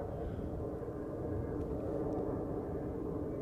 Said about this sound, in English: Airplane departing to the north, you can hear it, but I'm not able to show you.